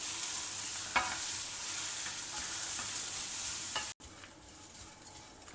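Chopped onions and grated carrot sauté in a pan with a close, steady sizzle and occasional stirring scrapes, then the sound cuts briefly and the frying resumes more quietly.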